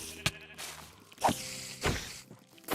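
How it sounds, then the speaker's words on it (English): Sheep bleats from Minecraft, two or three short nasal calls spaced apart over a low game background, fairly clear and close. "It's a sheep."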